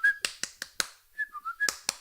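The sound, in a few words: whistle imitated by a speaker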